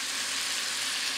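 Onions sizzle in hot oil for beef chow mein, a dense, steady, close frying hiss with no voices.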